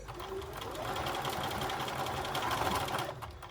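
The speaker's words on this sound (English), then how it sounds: "We're now going to stitch to almost the edge of the fabric." A sewing machine stitching fabric runs as a steady, moderately loud mechanical whir with a fast rhythmic chatter, slowing and stopping near the end.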